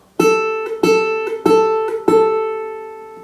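A single ukulele string plucked four times at an even pace, each bright note ringing out and decaying before the next, close and clear.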